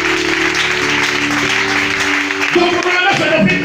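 A church congregation applauding during a worship service, a loud burst of clapping from many hands alongside voices and sustained tones, fading after a few seconds.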